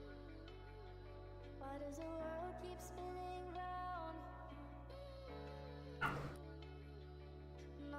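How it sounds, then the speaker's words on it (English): A small dog yips and barks faintly in the background beneath loud, steady video game music and effects. "The little doggy in the background somewhere."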